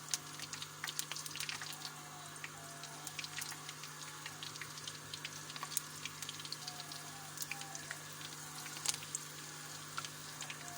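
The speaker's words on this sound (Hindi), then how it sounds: "तो ऑयल हमारा गरम हो गया। अब हम इसमें कोफ्ते डालेंगे।" Chana dal kofta frying in hot oil in a kadhai: a soft, continuous crackle and sizzle with scattered small pops, steady and fairly quiet, with a faint hum beneath.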